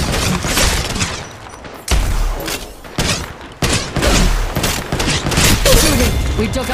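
Gunfire rattles almost continuously in the video game Apex Legends Mobile, loud close bursts of shots with brief breaks and occasional thuds.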